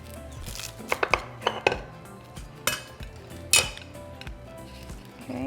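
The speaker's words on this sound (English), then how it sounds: "I'm just going to cut it, just so you guys can see" Knife and fork cutting through a breakfast quesadilla on a plate, with a scattering of sharp clinks and scrapes of cutlery against the dish at irregular intervals, close and fairly quiet.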